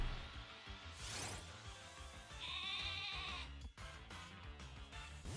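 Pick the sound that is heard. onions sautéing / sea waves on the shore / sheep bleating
sheep bleating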